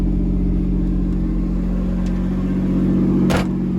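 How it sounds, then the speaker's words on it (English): A new Camaro engine idles steadily, a little high at about 2,500 RPM, with a low, constant rumble and a faint whine, close and loud, with a brief click near the end. "It is idling a little high."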